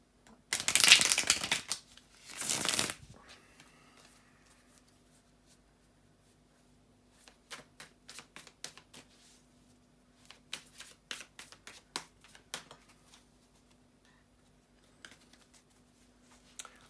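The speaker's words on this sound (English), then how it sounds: "bear with me a second, guys, to shuffle the tarot cards" A couple of bursts of tarot cards being riffled together, then a series of soft, irregular flicks and taps as the cards are handled, close and fairly quiet.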